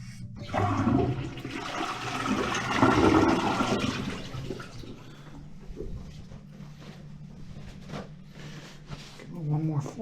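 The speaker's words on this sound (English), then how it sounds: "One more flush." A household toilet with problems flushes loudly, water swirling and rushing down over several seconds, then tapering into a quieter gurgling refill while someone speaks faintly in the background.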